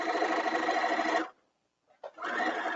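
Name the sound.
sewing machine sewing a straight stitch on silk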